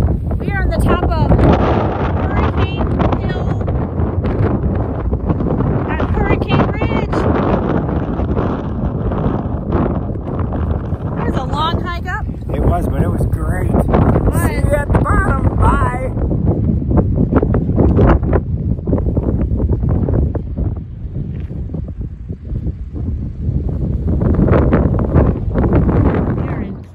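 Strong wind buffets the microphone at the top of a small harbor lighthouse at Port Angeles, Washington, a loud continuous roar with gusts throughout, while people talk over it.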